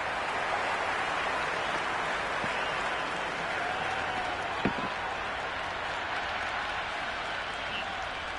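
Steady wash of crowd applause in the cricket video game Cricket 26, a dense continuous roar of clapping held evenly throughout at moderate distance, with one brief knock partway through.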